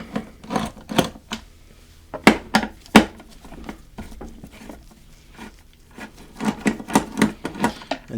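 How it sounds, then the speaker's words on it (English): Two 8mm tailpipe bolts being loosened on a 2020 KTM XC 300i dirt bike, heard as close bursts of quick ratcheting clicks separated by short pauses. "There's two 8mm bolts. Just want to loosen those up."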